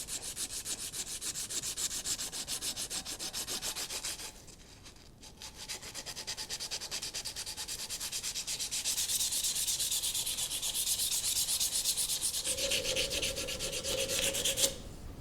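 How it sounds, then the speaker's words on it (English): Steady hand sanding on a vintage Proto adjustable wrench, a continuous abrasive rubbing that dips briefly near the middle and grows slightly brighter toward the end, close and alone with no voices. "I'm going to end up sanding most of this by hand"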